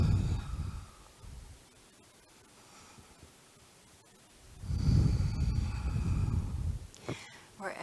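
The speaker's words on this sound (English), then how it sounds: "2 more deep breaths." Slow, deep breathing during a yoga stretch for the hips and glutes: a soft drawn-out exhale, a quiet pause, then a louder, longer breath near the microphone, ending in a brief sniff.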